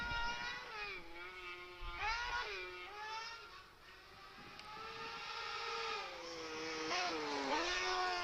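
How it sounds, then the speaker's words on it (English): High-pitched racing car engines wail and rev at a hill climb championship, rising and falling in pitch as they climb, sustained and fairly loud with no talk. "These cars just absolutely scream."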